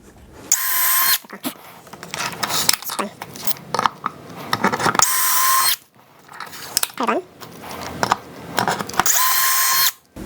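Holes are drilled for dowels with a Wolfcraft 4650 dowel jig. A power drill whines loudly in three long bursts, with clattering and clinking of the jig and workpiece between them, while a person talks quietly.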